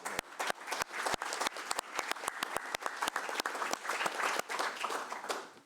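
A small group at a community committee council meeting gives a steady round of applause, moderately quiet, with individual sharp claps standing out from the dense patter throughout.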